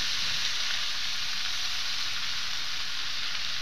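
Potatoes frying with chilli, cumin and ginger paste in a pan for jackfruit kalia, a dense continuous sizzle close up and loud, unbroken for the whole stretch with no voices.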